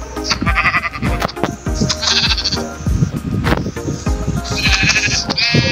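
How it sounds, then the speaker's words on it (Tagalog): Blocky sheep in a Minecraft survival game bleat repeatedly in short wavering calls, close and loud, over busy game sounds and background music. "Yun, tupa! Tupa tayo."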